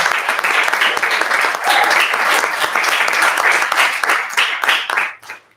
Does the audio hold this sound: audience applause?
yes